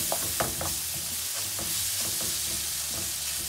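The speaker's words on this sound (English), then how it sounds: "Mixing everything well, and now we'll cook tomatoes till they turn soft." Tomatoes and masala sizzling in a pan while a spoon stirs them for a bhindi masala fry, a steady close frying hiss broken by soft scraping and clicking strokes.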